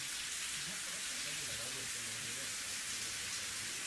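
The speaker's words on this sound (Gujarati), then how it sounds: "આ કમોસમી વરસાદ વરસતાની સાથે જ ખેડૂતોની ચિંતા વધી છે" Unseasonal summer rain falls steadily over the Kalavad area of Jamnagar, a dense, even hiss of drops with faint voices murmuring low underneath.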